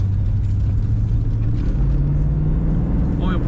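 A 1996 Chevrolet Corvette convertible accelerates down the road, its engine giving a loud, steady rumble whose pitch climbs partway through as it gathers speed, heard from inside the car.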